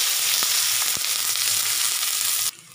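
Onions frying in hot oil with mustard seeds, urad dal and dried chillies for a Malaysian-style poori kurma, a loud continuous close sizzle with a couple of faint clicks, ending abruptly.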